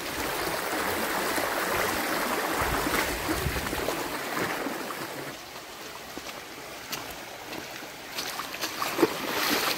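A forest stream on the path to a hidden waterfall near Gaganbawada, its broad rushing water steady and moderately loud, with faint knocks and splashes scattered through.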